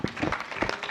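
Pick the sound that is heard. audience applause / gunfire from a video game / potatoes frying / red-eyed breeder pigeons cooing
audience applause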